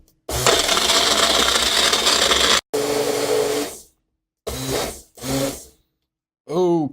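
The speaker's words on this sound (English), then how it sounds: "I should probably use my larger blender for this, but we're gonna just use a small one" A small blender whirs loudly while mixing a thick mass gainer shake, one long continuous run followed by a couple of short bursts, then brief stop-start pulses and a final whirring spin-down.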